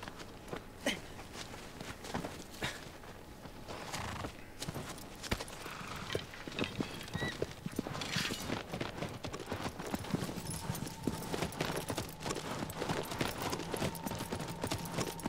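A horse's hooves clip-clop in a steady, rapid rhythm through a video game, fairly close and sustained, with scattered clatter and a faint tone beneath.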